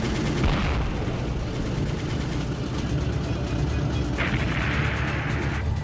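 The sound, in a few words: anti-aircraft fire during a WWII TBM Avenger bombing run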